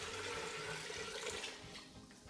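Water and homemade chicken stock run and splash steadily into an Instant Pot, a continuous liquid pour that tapers slightly near the end, with no talking.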